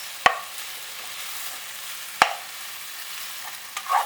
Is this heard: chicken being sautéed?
yes